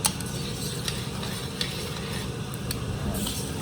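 Red Malbec wine bubbling and sizzling in a hot pan as the alcohol cooks off for short rib, a steady low simmering hiss with a few light clinks of a utensil, close and continuous with no talking.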